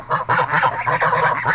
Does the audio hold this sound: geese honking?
yes